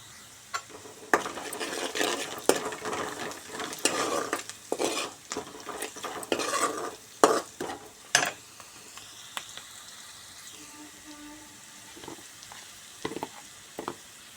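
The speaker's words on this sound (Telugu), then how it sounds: "ఉల్లిగడ్డ ఫ్రై అయిన తర్వాత పసుపు వేయాలి" Onions fry in oil in a pan for a potato fry while a utensil scrapes and clinks against the metal, the sharp stirring knocks loudest early, then settling to a quieter sizzle.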